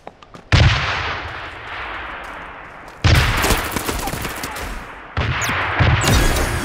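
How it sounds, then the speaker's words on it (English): Gunfire from the mech shooter game Super Mecha Champions comes in three loud bursts of rapid shots, each starting abruptly and trailing off, with no talking. "Shots heard."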